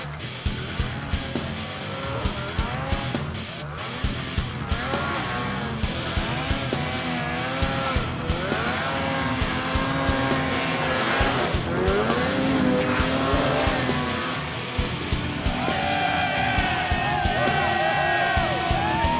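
Snowmobile engines scream and rise in pitch during a hill climb race on Snow King Mountain at Jackson Hole, with a steady loud motor whine and crowd noise underneath.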